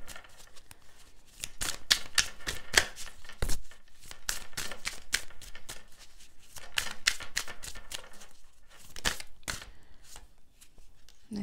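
Tarot cards being drawn and shuffled, a rapid run of crisp papery flicks and slaps close up, with no talking.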